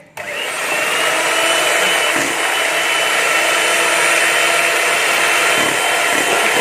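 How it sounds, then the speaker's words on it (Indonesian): An electric hand mixer beating egg yolks with sugar for a chocolate cheese tape sponge cake: a steady, loud whirring motor drone that starts abruptly and runs continuously, with slight rattles against the bowl. "Nah, kita buka mixernya."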